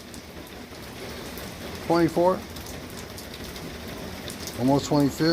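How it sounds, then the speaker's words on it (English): Rain falls in a steady, soft wash beneath someone talking in short bursts, the patter continuing alone between his phrases. "It's raining."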